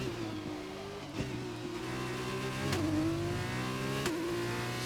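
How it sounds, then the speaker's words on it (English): F2 race car engine in the video game F1 2021 on the Azerbaijan circuit, a steady high-pitched whine climbing through revs with a few quick gear-change blips, loud and continuous without talk. "Almost going to be at the rev limiter in 6th gear when we hit the braking zone."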